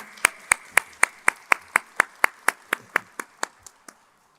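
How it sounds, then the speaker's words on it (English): Evenly spaced hand claps, about four per second, crisp and close, keeping a steady beat before stopping. "give a huge round of applause for both the OGs here"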